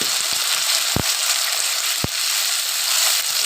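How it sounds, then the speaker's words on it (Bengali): A masala of tomato, green chilli, garlic and ginger sizzles steadily in hot oil in a pan for an amudi fish curry, with a continuous hiss broken by two sharp spatula clicks. "এবার এই মশলাটাকে ভালো করে কষাতে থাকবো"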